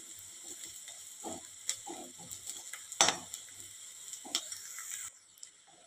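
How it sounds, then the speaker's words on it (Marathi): Two spoons of ground dry coconut are sautéed in the hot tempering of a pan of gavar (cluster bean) bhaji, with a faint sizzle and occasional spatula scrapes, one sharper scrape near the middle, before fading to quiet. "हे नारळ घालून छान असं परतून घेऊया."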